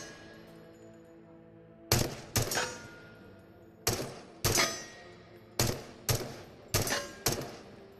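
An M4 rifle fires in the video game Into The Radius: eight loud, sharp single shots in irregular pairs, each with a short decaying tail, against a quiet background.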